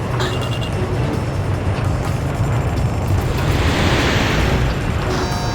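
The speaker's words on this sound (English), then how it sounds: "A large-scale explosion has apparently occurred in midair." A loud, sustained explosive roar rumbles and hisses continuously, a large midair blast in Ace Combat 6: Fires of Liberation, with no voices.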